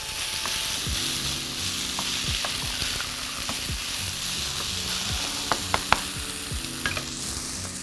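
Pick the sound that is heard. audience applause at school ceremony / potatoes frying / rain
potatoes frying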